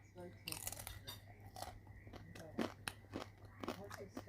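Pork crackling bitten and crunched at a German restaurant, several crisp crunches and chewing bursts close to the mic over a steady low hum, with a voice speaking.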